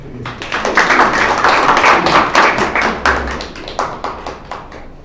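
Applause from an audience at an academic social welfare seminar in Korea, a dense, steady patter of many hands clapping that swells and then thins out over several seconds, with no talking.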